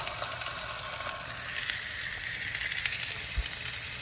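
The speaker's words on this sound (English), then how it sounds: "First time I threw something on the skillet." Food sizzles steadily on a skillet, a dense crackling hiss heard up close and alone, with occasional louder pops.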